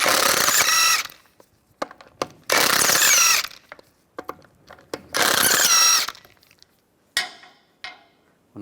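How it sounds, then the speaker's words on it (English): A ratchet wrench fitted with a 17mm socket backs lug bolts out of a Mini Cooper wheel, giving three long, loud runs of rapid clicking separated by pauses with small knocks, then a shorter final burst. "Take the lug bolts out."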